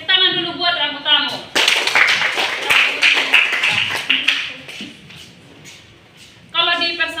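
A class of junior high students clapping hands together in a classroom, a lively burst of many claps lasting several seconds that tapers off, framed by a teacher speaking before and after.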